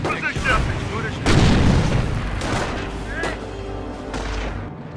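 Battlefield gunfire and booming artillery in a World War II Normandy invasion strategy game, with dense overlapping shots and heavy blasts under voices.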